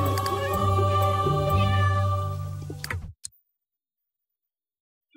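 Cartoonish cat meows from The Sims 3 game, a steady run of tonal mewing calls for about three seconds that stops abruptly into silence, with a faint click near the end.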